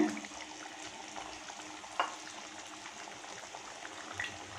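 Ground coconut paste, blended with whole spices and roasted gram, is stirred into a simmering channa masala gravy in a pan, a steady soft bubbling and scraping with two brief clinks of the spoon against the pan.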